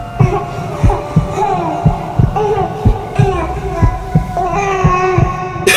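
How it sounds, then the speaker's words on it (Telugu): A regular thudding heartbeat serves as a sound effect in a Telugu horror story. Steady low pulses about once a second sit under an eerie drone and hum, close and fairly loud. "పిండం గుండె చప్పుడు వినిపించింది"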